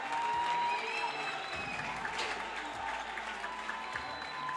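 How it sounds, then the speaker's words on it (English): Crowd noise from spectators at the U23 World Squash Championship, a steady, moderately distant wash of cheering and clapping that continues throughout without letting up. "And there's the crowd again"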